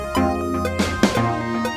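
A programmed acoustic pop drum kit plays a short groove, with punchy kick and snare hits over steady ringing cymbals.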